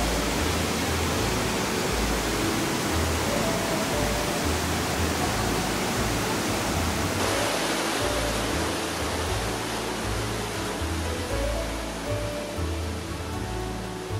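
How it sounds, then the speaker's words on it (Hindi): Ravana Falls waterfall in Ella, Sri Lanka, a loud, dense, steady roar of rushing, splashing water that fills the whole stretch without pause. "रावना वाटरफॉल, जितना ब्यूटीफुल ये वाटरफॉल है"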